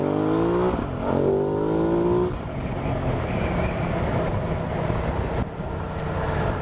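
An adventure motorcycle accelerates hard through its gears, the engine note climbing in rising sweeps before settling into a loud, steady ride with heavy wind rumble, close and continuous.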